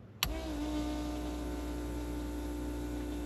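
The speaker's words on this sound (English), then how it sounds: "Oh yeah, fuel pump's going." The electric fuel pump of a 2JZ-swapped Mercedes clicks on and settles into a steady, close, tonal whine and hum that continues unchanged to the end.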